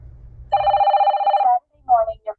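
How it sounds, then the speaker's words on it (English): Telephone ringing: one loud, clear electronic ring lasting about a second, a short pause, then a second ring that begins and cuts off, with no talk over it. "Saturday morning, your phone rings."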